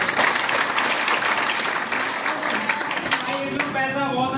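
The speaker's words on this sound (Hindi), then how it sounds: "दुर्वेश सर बॉबी सर के लिए एक बार जोरदार क्लैप" Loud, dense applause from an audience at a business gathering, steady throughout with a few whoops near the end.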